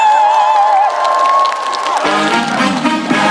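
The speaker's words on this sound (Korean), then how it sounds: "여러분 박수 많이 주세요" An audience at an outdoor trot concert in Imsil applauds and cheers for a singer, a dense wash of clapping and shouts rising after a sustained held tone, steady and loud throughout.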